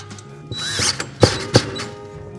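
A bolt and nut are fastened on the bottom of a garage door spring bracket on a Wayne Dalton Torquemaster Plus system, heard as a few short ratcheting and metallic clicks with two sharp clanks, close and fairly quiet.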